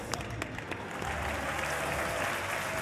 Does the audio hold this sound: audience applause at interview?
yes